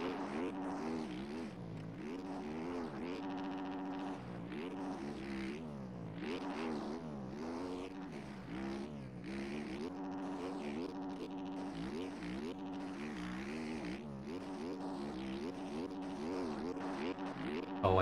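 Motorcycle engines in a motocross video game whine and rev continuously, pitch rising and falling as bikes accelerate and shift, a steady mid-level drone throughout.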